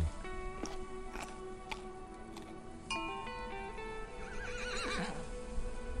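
A horse whinnies in the video game Burnhouse Lane, with a rising, wavering neigh near the end, preceded by steady hoof clip-clops and a few sharp clicks over a soft ambient bed.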